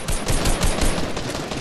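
Rapid automatic gunfire in a shooting video game called Skybase, a dense, loud burst of overlapping shots sustained through the short moment without pause.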